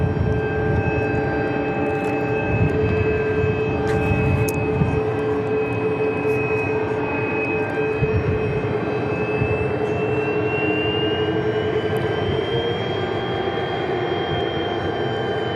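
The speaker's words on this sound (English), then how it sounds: "Just another everyday takeoff." Airplane takes off at Tucson International Airport with a loud, continuous engine roar and steady droning tones that hold through the whole stretch, heard from a spotting position near the runway.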